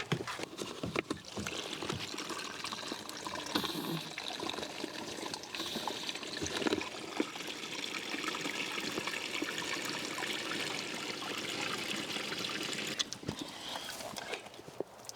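Water filling a camping solar shower bag during a wild camping trip, a steady trickling, splashing flow that runs close and continuous for most of the stretch without speech.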